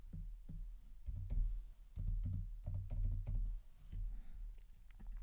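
Keys tapped on a computer keyboard to enter a short word into a design program, a quick run of close, soft clicks with brief pauses between bursts.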